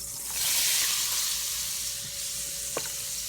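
Onions hit hot olive oil and pan juices, giving a bright, hissing sizzle that swells quickly and then settles into a steady fry, with one small clink near the end and no speech.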